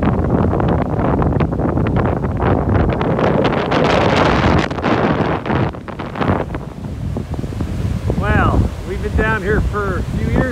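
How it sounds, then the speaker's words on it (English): Heavy sustained wind buffets the microphone at the coast near Pedasi, roaring loud and steady with surf and waves underneath, easing slightly before a voice comes in toward the end. "We are sustained in heavy winds."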